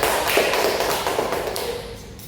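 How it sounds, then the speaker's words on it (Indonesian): A small group claps together during a group counseling session, a quick dense patter of hands close by that fades out after a couple of seconds. "Kita kasih aplaus dulu."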